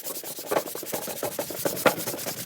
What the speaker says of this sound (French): Donc là, je vais poncer.